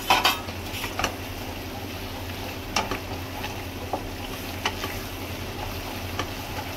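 Ghati masala of turmeric, salt and black chili powder sautéing in oil for a Karnataka-style goat mutton gravy, with a spoon scraping and clinking against the pan in irregular strokes over a low, steady sizzle.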